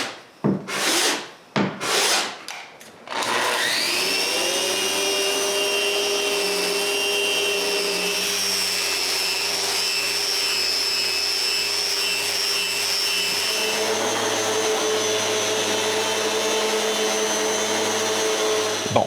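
Glued wood panels for a closed bookcase being sanded smooth with a power sander: a few sharp knocks, then a loud, steady motor whine with a high, even hum that runs without a break to the end.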